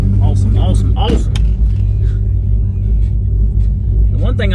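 A car fitted with a stage 2 BTR Red Hot cam idles with a loud, deep, choppy lope, heard up close from inside the cabin; a few faint background noises show through.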